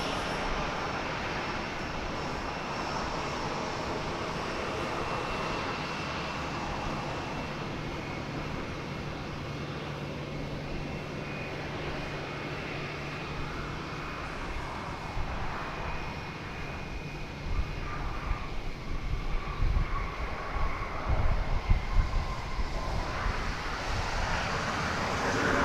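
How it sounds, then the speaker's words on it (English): An American Airlines Boeing 737-800 arriving from Mexico City rolls onto a DFW runway, a steady broad engine roar with wind noise that swells louder toward the end. "American Flight 1066 there you see on the left of your screen. It's arriving from Mexico City. 737-800."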